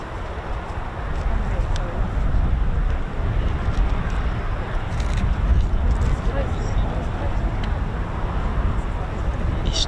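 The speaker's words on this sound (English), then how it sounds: "I love the sound of these engines, the F108s" KC-135 tanker jet engines, CFM F108 turbofans, run with a steady broadband roar at an airbase while the aircraft moves, loud and continuous throughout with wind noise on the microphone.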